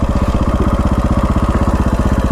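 A KTM 525 dual-sport motorcycle engine pulses loudly and steadily on a test ride. The single-cylinder thump is heard close up, with no talking over it.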